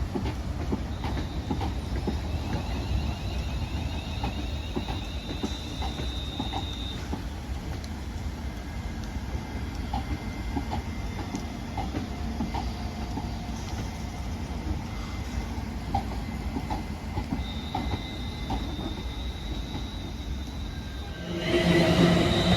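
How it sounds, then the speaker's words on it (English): A London Northwestern Railway Class 350 electric multiple unit, 350-256, departs from Crewe on the service to Birmingham New Street, with steady rolling rumble and rhythmic clickety-clack over the rails and a brief tonal whine. "there goes the 1019 London Northwestern Railway service to Birmingham New Street, 350-256"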